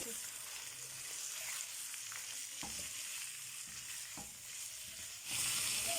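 Chicken fries with onion in a pan for achar gosht, giving a continuous close sizzle with occasional scrape and stir knocks and a louder crackle at the end.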